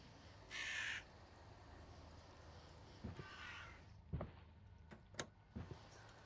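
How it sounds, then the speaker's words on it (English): Crow-like cawing from a video game set in a basement with a red fridge, several separate harsh caws spread out and spaced apart, with a short burst near the start, fairly faint against a quiet background. "Bird noises."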